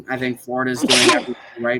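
A single sharp sneeze bursts out between stretches of men's conversation on a sports podcast, loud and close, with talking resuming right after.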